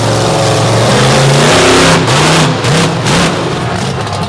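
Brad Shippert's Ford monster truck from Dixon, Illinois, loud and close, its engine roaring at sustained high revs, then dipping and surging in several sharp throttle blips as it rolls out.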